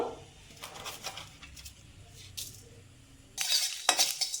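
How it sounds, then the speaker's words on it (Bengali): Whole cumin, black pepper, dried chillies, coriander and fennel dry-roasting in a pan, stirred with soft scraping and light clinks, turning louder with a brighter rattle and sizzle near the end. "মশলাটা আমি নাড়াচাড়া করে ভেজে নিয়েছি"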